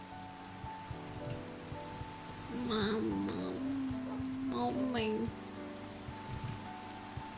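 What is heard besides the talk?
rain falling in Minecraft video game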